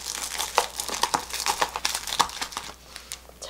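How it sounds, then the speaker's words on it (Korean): Plastic wrap is folded around a tuna triangle kimbap, giving a close, quiet series of irregular crinkles and crackles that fade near the end. "여기다가, 이렇게 넣어줄 때는 저 비닐을 좀 접어서"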